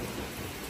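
Steady rain with a thunderstorm, a dense continuous wash of rainfall and low rumble with no voices.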